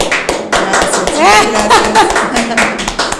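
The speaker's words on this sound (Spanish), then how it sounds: "Recibamos con un fuerte aplauso." Audience applause greeting a guest at an interview, a brisk patter of clapping running under a voice as she speaks.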